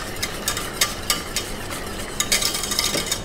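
Gelatine being stirred into a buttermilk pudding mixture in a pan just off the heat: steady scraping and swishing strokes, close and fairly loud, with a few sharper scrapes along the way and no talking.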